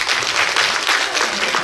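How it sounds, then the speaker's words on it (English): Brief burst of audience applause during a digital marketing lecture, a short, dense patter of clapping from a seated crowd. "Give a nice round of applause."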